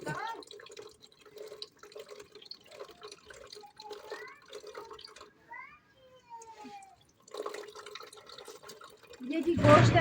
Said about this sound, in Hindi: सिर्फ इतना सा पानी आ रहा है